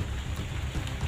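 Heavy rain pours in a dense, even hiss with a low rumble underneath, continuous throughout the short stretch.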